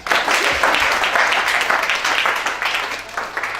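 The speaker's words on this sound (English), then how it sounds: "Put your hands together for our brother." An audience at a family talk show claps for a guest, a dense wash of applause that stays loud, then slowly thins toward the end.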